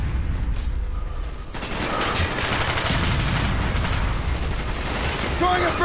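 Gunfire and a grenade blast rattle through a Call of Duty: Black Ops firefight, with loud bursts of shots and booming impacts in continuous combat noise.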